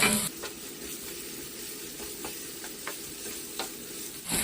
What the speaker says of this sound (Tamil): வெங்காயம் சேர்த்து நல்லா எண்ணெயில் வதக்கிக்கலாம்.